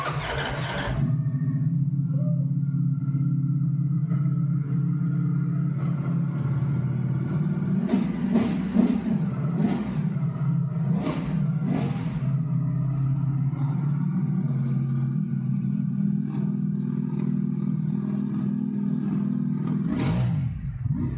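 A Ducati motorcycle with its stock, unmodified exhaust cranks, catches and settles into a low, steady idle, then revs sharply several times before dropping back to a rumbling idle.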